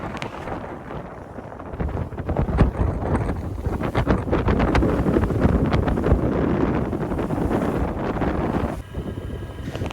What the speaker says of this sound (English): Approaching Bequia, you can hear the wind level.